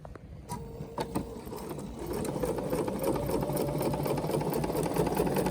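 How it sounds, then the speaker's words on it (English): A Bernina sewing machine starts up after a few clicks and settles into a steady, fast mechanical whirr while sewing a long stitch, close and clear with no talking. "Touch that, and now go ahead and sew."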